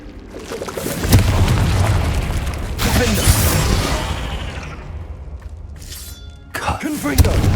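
A Confringo spell explodes in Hogwarts Legacy with a loud booming blast and crackling debris that rolls on for several seconds, followed by a second sharper burst near the end.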